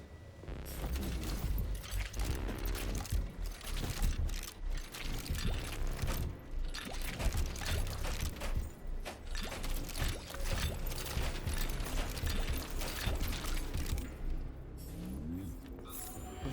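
Loot vacuum pulling collected items in the video game Atomic Heart, a dense continuous whooshing, clattering mechanical rush that holds steady and loud for the whole stretch.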